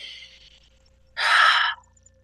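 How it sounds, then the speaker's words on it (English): A single deep breath during a guided relaxation exercise, a faint inhale followed by a louder, breathy exhale of about half a second, with no talking. "Deep breath in and out."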